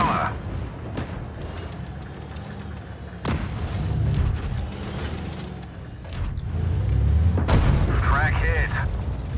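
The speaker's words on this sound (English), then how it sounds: "Track hit. Enemy armor is damaged." Tank cannon shots in a tank video game, the Vickers Light tank's rounds hitting enemy tank tracks: several sharp booming blasts with mechanical clanks between, loud and close, under a game voice announcing hits.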